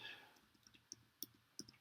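Keyboard shortcut keystrokes on a computer keyboard: a few sharp, quiet clicks spaced irregularly, ending in a louder final click, with no talking.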